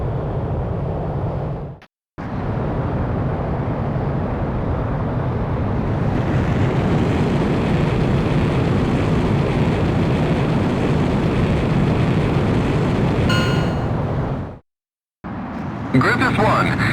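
A fighter jet from the game Ace Combat X roars steadily during takeoff, a loud, dense, unbroken rush that builds and holds for about twelve seconds before cutting off abruptly.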